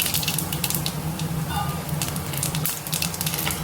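Mustard seeds and cumin tempering in hot oil for a greens dish, giving a steady, close crackling sizzle throughout with a few brief higher pops midway and no talking.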